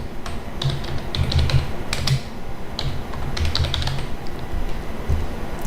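Fingers type on a computer keyboard, entering a short line of Python code, a steady patter of close clicking keystrokes with a few louder taps over a low background hum.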